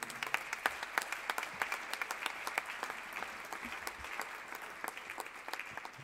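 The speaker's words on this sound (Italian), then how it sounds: "Un grande applauso a Ferruccio De Bortoli." Steady applause from an audience, many hands clapping at an even density throughout, moderately distant.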